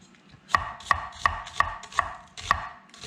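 A knife slices kielbasa on a cutting board for a stir-fry, crisp chopping knocks landing in a steady rhythm, about eight cuts close up with no talking.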